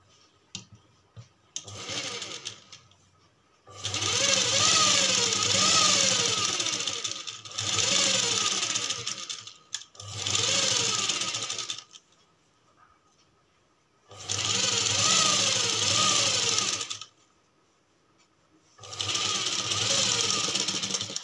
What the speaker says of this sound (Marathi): त्याला दाब शिलाई देऊ आपण।